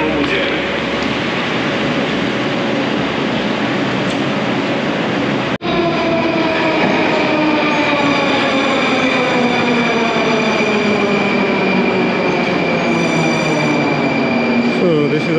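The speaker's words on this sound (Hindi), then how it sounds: "अपनी ट्रेन आ गई है मेट्रो" A metro train pulls into a station with a loud, rumbling roar and rising and falling whining tones as it slows, after a brief break near the start.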